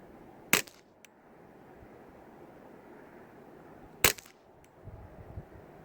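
Suppressed Ruger 10/22 rifle firing at 25 yards outdoors: two sharp, clipped reports several seconds apart, each followed by a fainter tail, over light background hiss.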